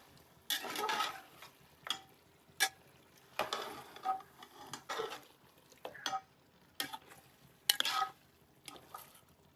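Chicken for a mixed chicken biryani is stirred in a frying pot, giving repeated bursts of scraping and clatter at an irregular rhythm over a faint sizzle, close and fairly quiet.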